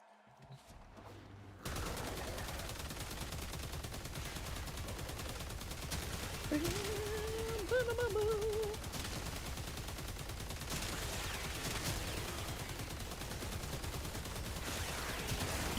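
Laser gun in the video game Warframe firing in a steady, continuous stream of rapid shots over nearly the whole span, loud and dense, with a brief tonal warble partway through and no talk.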